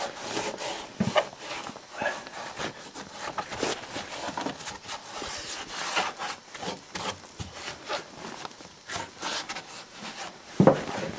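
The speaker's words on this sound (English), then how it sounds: "And we'll wipe down here and move the handle and wipe in here." Cloth wiping the plastic panels of a Ski-Doo Formula MX snowmobile being prepared for summer storage, a close series of irregular rubbing swipes and scuffs with occasional light knocks, heard without talk.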